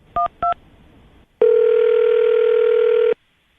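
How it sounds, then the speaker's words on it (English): A telephone dials a number with two quick keypad beeps, then a long, steady, clear tone after a short gap. "I'm going to dial the phone number right now."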